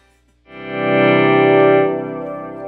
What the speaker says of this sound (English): and then you hear the reverb kind of decay there